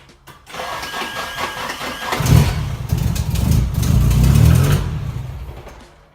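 An SR engine cranks and catches, rising into a loud, rough running rumble that swells and then fades toward the end.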